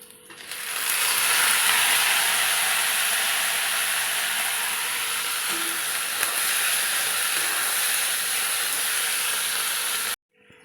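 Tomatoes hit a hot pan of browned onions and set off a loud, steady sizzling hiss that holds for about ten seconds before cutting off abruptly.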